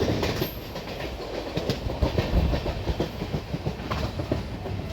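The Mumbai–Madgaon Jan Shatabdi Express runs along a single Konkan Railway track, heard from on board as a steady, close rumble with rhythmic clickety-clack of wheels over rail joints and no voices.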